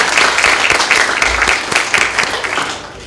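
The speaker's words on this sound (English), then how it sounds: "So I think one more round of applause for them." A loud, sustained round of applause from an audience at a volunteer-organised evening talk, dense clapping that swells and holds steady throughout with no speech over it.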